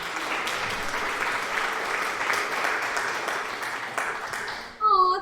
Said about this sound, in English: I was like, who's clapping?